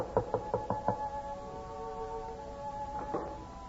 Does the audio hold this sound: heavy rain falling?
no